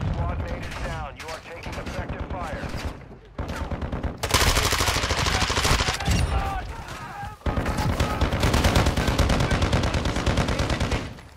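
Video game gunfire in a squad combat match, with dense bursts of automatic shots and heavy fire filling most of the clip, loud and continuous after a brief quieter opening, mixed with game sound effects.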